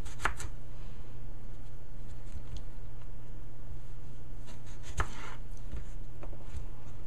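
A knife chops a clean, unpeeled white potato on a board, with crisp irregular cuts close by, including a few louder strikes over a steady low background hum.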